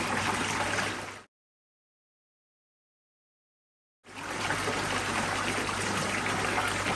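Steady rushing spray and trickling water at a pond filter with a citric acid cleaning solution, loud and close, cut by a sudden stretch of total silence before the continuous hiss resumes.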